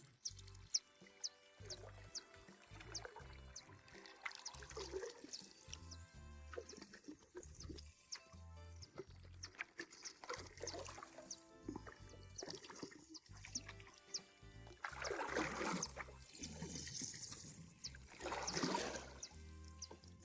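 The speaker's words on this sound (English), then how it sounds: "Let's turn the kayak to face the water." Paddles dip and water swirls and splashes around a kayak as it is swung about on a calm river while fishing, intermittent close sloshes and drips with faint birds in the background.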